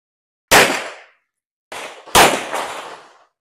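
Three sharp handgun shots crack at a shooting range, close and loud, each with a short decaying echo; the first stands alone, then a pair follows about half a second apart.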